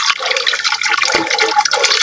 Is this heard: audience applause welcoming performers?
no